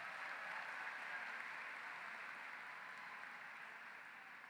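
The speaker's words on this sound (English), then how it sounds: "Another round of applause for Hannah Davis" High school graduation crowd gives a steady, even round of applause for a graduate, a distant, uniform wash of clapping heard faintly throughout.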